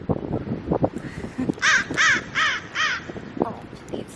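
Crows caw in a run of four harsh, evenly spaced calls nearby, with people talking before and after the calls.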